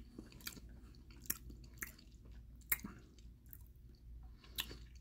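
Someone chews Russian space pizza, Sicilian style, close to the mic: soft wet squishes and jaw clicks with a few crisp crunchy bites scattered irregularly over a quiet, low background.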